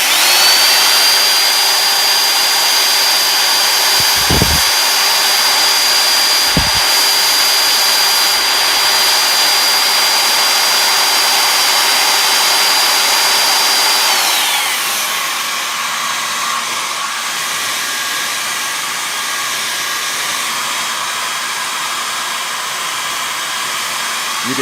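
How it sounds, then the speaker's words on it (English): A hair dryer runs off a Vtoman portable battery power station, a loud, close, continuous whining blow. Two brief knocks come early, and partway through the tone drops and softens as it keeps running. "You can see that the hair dryer is blowing."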